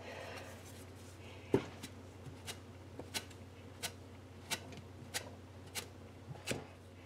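A knife cuts potato dumplings on a board in a quiet kitchen, giving a steady series of about ten soft, sharp taps with no talking.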